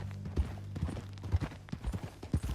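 Horse hooves clip-clop in Red Dead Redemption 2, a close, uneven series of muffled thuds at a walking pace over a low tonal hum.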